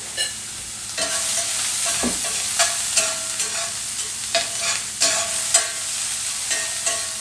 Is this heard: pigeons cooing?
no